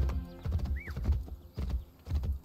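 Horse hooves clip-clop in the video game Assassin's Creed Brotherhood, several loud close hoofbeat clusters in an uneven gallop, with a brief rising neigh early on.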